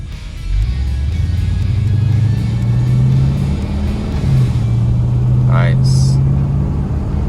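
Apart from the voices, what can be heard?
1966 Buick Wildcat with Turbine 400 transmission driving, shifting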